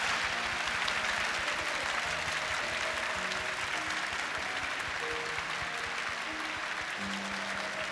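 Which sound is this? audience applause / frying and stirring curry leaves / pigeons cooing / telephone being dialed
audience applause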